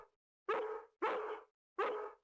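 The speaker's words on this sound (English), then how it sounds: "Once he gets barking, a good piece of meat is the only way to shut him up." A dog in the horror video game Harvester barks three times, each a sharp, loud bark with a short tail, evenly spaced about half a second apart, with no speech.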